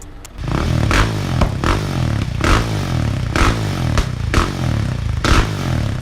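A Husqvarna 701 Enduro motorcycle fitted with a Yoshimura exhaust revs repeatedly, its loud, close single-cylinder engine note broken by sharp blips and clattering bursts at an uneven rhythm, with no talking.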